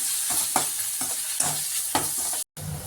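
A spatula scrapes and stirs a garam masala mixture sautéing in a pan for chilli parotta, rhythmic strokes every half second over a continuous sizzle, with a brief dropout near the end.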